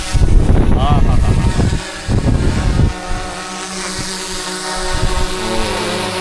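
A drone flies outdoors with a steady, loud whirring drone of propellers and motor that holds throughout, with shifting pitch as it moves, while people talk and exclaim over it.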